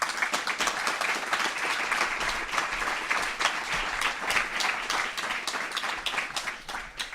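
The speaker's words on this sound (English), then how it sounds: "please give them a round of applause" Sustained audience applause at a video game design conference, steady dense clapping from a crowd filling the whole stretch at even loudness.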